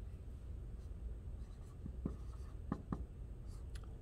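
Pen or marker writes on paper, small quiet scratchy strokes and taps scattered across a few seconds with no talking, close and faint.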